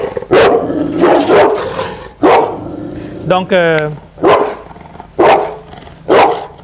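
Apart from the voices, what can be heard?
aggressive dog barking in its cage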